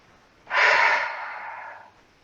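A single long exhale during movement practice, close and breathy, swelling suddenly then fading gradually over more than a second in an otherwise quiet space.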